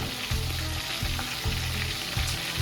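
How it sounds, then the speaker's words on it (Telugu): Onions and green chillies fry in hot oil, a steady close sizzle broken by several bursts of stirring scrapes, with no talking. "ఫస్ట్ నూనె పోసుకొని అందులో ఆనియన్స్ వేసుకోవాలి అది బ్రౌన్ కలర్ అయ్యేదాక వేగనివ్వాలి"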